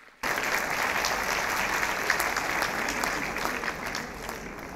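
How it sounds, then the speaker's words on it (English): A school audience gives a large round of applause for its athletes, dense clapping that starts abruptly and holds steady for several seconds before easing slightly. "Please give a huge round of applause for our athletes."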